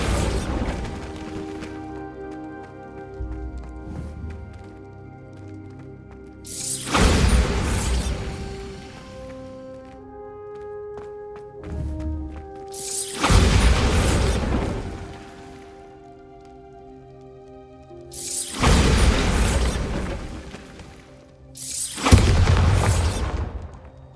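Bombarda explosion spells in Hogwarts Legacy, four heavy booming blasts spaced several seconds apart, loud and close, each rumbling off over a quieter game backdrop.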